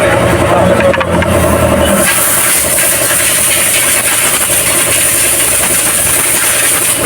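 A Euro 4 Mitsubishi L300 engine idles loudly and steadily up close, its even running hum joined by a hissing tone after the first couple of seconds, with no talk over it.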